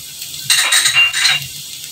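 Chopped garlic hits a hot pan for egg fried rice, a brief loud sizzle bursting up for about a second with a faint clink of a utensil, then settling back to a low hiss.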